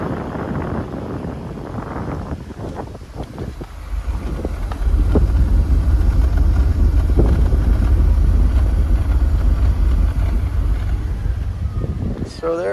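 A family-owned 1984 Mercedes with 63,000 km idles easily, and the steady low exhaust rumble grows louder partway through, with wind buffeting the microphone.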